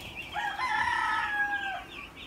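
Chickens on a poultry farm beside a new cage area call out with one drawn-out, crowing-like cry lasting over a second, heard close and clear above a steady low background hum.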